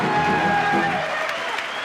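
Studio audience applause for actress Marina Vlady on a French TV show, a continuous wash of clapping with light cheering that fades slightly toward the end.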